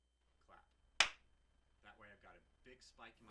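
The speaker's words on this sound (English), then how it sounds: "So you hear that clap." A single sharp hand clap recorded by a camera's built-in microphone, one loud isolated crack followed by a short decay, with people talking briefly before and after.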